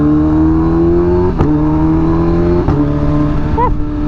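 Kawasaki Ninja H2 motorcycle on a cold day, its engine accelerating hard in a loud, close, rising whine, broken by two sharp gear shifts about a second apart and then a final throttle blip.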